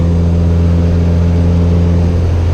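A Honda Civic pulling hard in third gear on a cold road with the wheels spinning, its engine a loud, steady drone with a strong low hum, heard close from inside the car with no talk.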